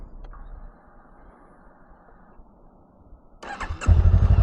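A motorcycle engine cranks after a quiet low hum, then catches near the end and settles into a loud, close, rough idle.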